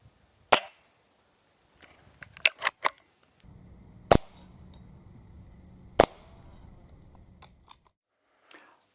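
Sharp, close pops from a Hatsan Model 25 Supercharger .177 air pistol, about half a dozen spaced shots, some in a quick cluster, with faint clicks of cocking and loading in between, over a quiet outdoor background.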